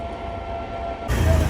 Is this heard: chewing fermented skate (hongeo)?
no